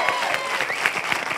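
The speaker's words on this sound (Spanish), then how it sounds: "Vamos a darle aplauso a Carlitos Espejel." A studio audience on a late-night comedy show applauds for Carlitos Espejel, a brief dense wash of clapping with scattered louder claps and voices mixed in.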